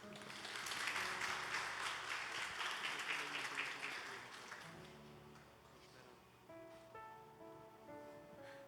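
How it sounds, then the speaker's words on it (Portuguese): A church congregation breaks into loud, dense applause that swells and then fades after a few seconds, with sustained keyboard chords playing underneath and continuing once the clapping dies down. "Aplauda Jesus."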